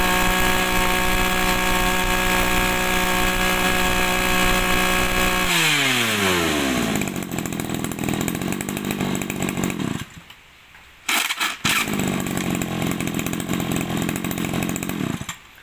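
A used Japanese brush cutter's two-stroke engine idles loudly with a buzzing, harmonic drone, then revs and falls in pitch, cutting out briefly before restarting and running on with a raspy, uneven roar.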